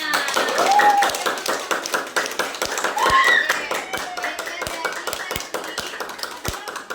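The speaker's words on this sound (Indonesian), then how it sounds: "Beri aplaus untuk kita semua" Children in a classroom clap together in a steady, fairly loud, rhythmic applause that fills the room, with voices talking over it.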